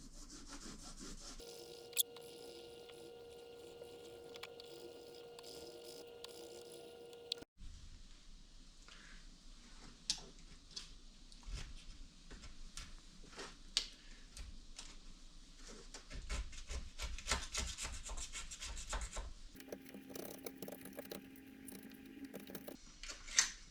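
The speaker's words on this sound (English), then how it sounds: "Little Scotch-Brite and some acetone." Motorcycle air filter part scrubbed with a Scotch-Brite pad and acetone, quiet rhythmic rubbing strokes with scattered clicks and taps, faint and close, with steady background hum in some sections.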